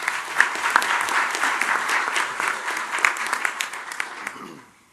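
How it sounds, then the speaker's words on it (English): Audience applause welcoming a guest speaker at a Rotaract Club of Birmingham event, steady clapping from a room of people for about four seconds, then quickly dying away. "join me in welcoming Stephen Black today"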